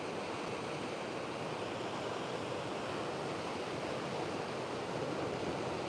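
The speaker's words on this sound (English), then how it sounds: "you can listen to the waves and I'm talking." Ocean waves washing onto a rocky shore at La Caleta, a continuous broad roar of surf with wind, steady and loud with no talking.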